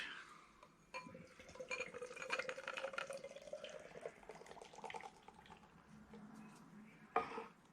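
A can of hazy Polly's and Omnipollo beer is cracked open and poured. Faint liquid trickles and glugs run for several seconds and end with a sharp metallic click, all quiet and close, with no voices.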